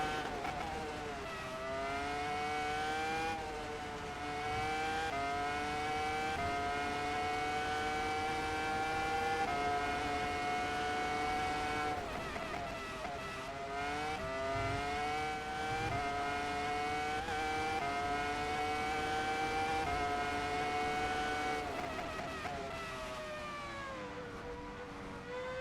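A Ferrari F2004 Formula One car screams around the Magnificent Park circuit in rFactor 2, its high-pitched engine whine rising and dropping through gear changes and corners, steady and loud with no talking.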